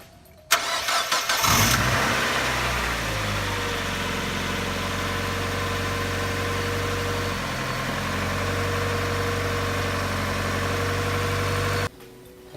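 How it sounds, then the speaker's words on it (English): A car engine cranks briefly, catches and starts, then settles into a steady, even idle for about ten seconds before cutting off. "Turn the key, and the car starts, and it sounds great."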